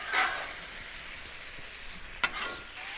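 Shrimp frying in a pan for shrimp fried rice make a steady, bright sizzle, with a short hiss near the start and a sharp crackle or pop partway through.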